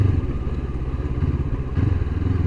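Motorcycle riding over a rough, broken road surface, a close engine drone with a bumpy, pulsing rumble and clattering jolts throughout.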